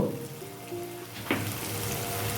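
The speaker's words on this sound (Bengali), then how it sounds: "মশলাটা ফ্রাই করে নিই" Spice paste with turmeric and cashews sizzles in oil for a Bengali cauliflower and prawn curry, giving a steady, moderately quiet fry with one brief clatter partway through.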